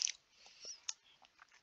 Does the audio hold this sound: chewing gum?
yes